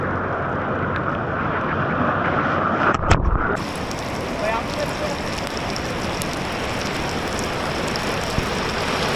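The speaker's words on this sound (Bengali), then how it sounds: "নেমে গেছে, বৃষ্টি নেমে গেছে।" Steady rain falls at a beach in Cox's Bazar on an overcast day, a dense, even hiss that runs throughout, with a brief louder burst near the start.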